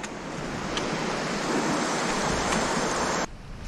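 Creek water rushes past at a trail crossing on the Ozark Highland Trail, a loud, continuous broadband wash close to the microphone that cuts off abruptly near the end.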